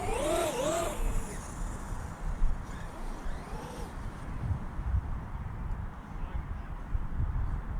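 A Traxxas UDR Unlimited Desert Racer RC car fitted with an anti-roll bar drives nearby, its electric motor whining and rising in pitch as it accelerates, then fading to a rough rumble of tyres over ground.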